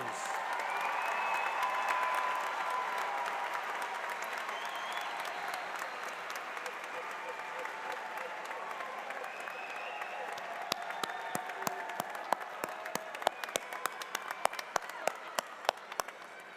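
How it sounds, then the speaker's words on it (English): A commencement crowd applauds its graduates at an agricultural sciences college, broad sustained clapping that stays even, then thins into scattered individual claps near the end. "Let's give them all a huge round of applause."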